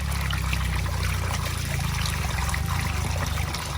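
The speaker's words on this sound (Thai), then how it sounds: "เราได้ทำการล้างนะครับผม" Steady trickling water as leafy greens are washed for a Thai Nyo-style fermented vegetable dish from Nakhon Phanom, a continuous close wash of running water with no voices.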